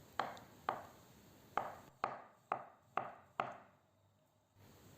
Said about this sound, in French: je vais couper la betterave, bien sûr cuite,